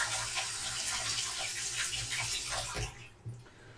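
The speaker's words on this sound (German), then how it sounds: "Waschen wir die Topflappen auch noch." Water runs steadily from a tap while pot holders are washed by hand in a sink, a continuous splashing rush that cuts off near the end, followed by a few faint clunks.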